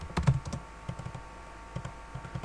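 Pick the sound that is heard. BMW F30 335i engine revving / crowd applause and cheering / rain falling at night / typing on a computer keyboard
typing on a computer keyboard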